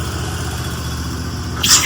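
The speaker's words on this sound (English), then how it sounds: "Guy's got a generator on the back." A steady mechanical generator engine drone runs continuously at mid volume, with a brief louder burst of noise near the end.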